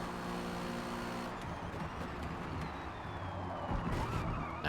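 In Forza Motorsport, a Lexus race car and a Porsche GT3 R give a continuous engine drone and road roar as they run side by side, and the pitch rises slightly as they accelerate.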